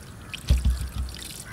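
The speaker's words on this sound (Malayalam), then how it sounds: "അപ്പോൾ ഒരല്പം വെള്ളം കൂടി ചേർത്ത് കൊടുക്കുക" Water poured from a glass into a pot of meat rubbed with salt and spice powders, a short close trickle and splash with a couple of louder gulps, then fading dribbles.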